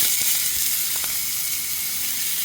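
Lamb searing in a hot cast iron pan, a steady close sizzle with a few light pops and no talking.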